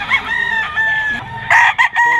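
Several roosters, including a 2.5-month-old stag, crow and cluck close by at a pet market in Bocaue, Bulacan, with overlapping calls filling the short stretch.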